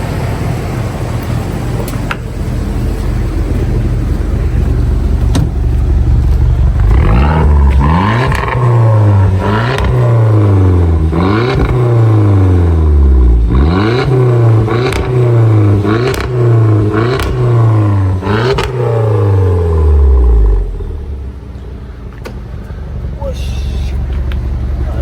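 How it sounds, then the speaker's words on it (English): High-mileage V6 car engine, revved repeatedly: a low idle rumble, then a series of sharp rising and falling revs in quick succession, before it settles back to a quieter idle. Loud and close. "Let's give this little V6 a go."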